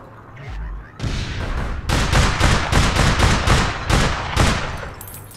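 Rapid bursts of gunfire in the online shooter APB Reloaded, loud overlapping shots and volleys in quick rhythmic succession after a short quiet start.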